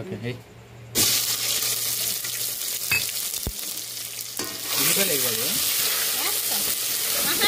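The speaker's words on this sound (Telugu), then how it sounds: "ముందైతే మసాలా అనేది ఆయిల్లో బాగా ఫ్రై చేసుకోవాలి" Masala frying in hot oil for an outdoor chicken curry, a steady broad sizzle with some stirring, with people talking over it.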